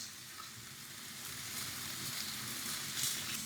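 Food fries in a pan with sesame oil over medium heat, giving a soft, continuous sizzle that swells slightly, close and steady with no talking.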